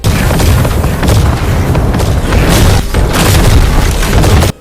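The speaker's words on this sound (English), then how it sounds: "Reworking the audio effects for shouts and magic spells." A heavy, rumbling magic spell blast from Skyrim roars continuously for several seconds, loud and dense with crackling bursts, then cuts off abruptly.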